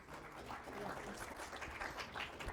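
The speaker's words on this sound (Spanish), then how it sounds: "Un fuerte aplauso, queridos colegas" An audience applauds at a psychology talk, a fairly faint, continuous patter of many hands clapping in a room.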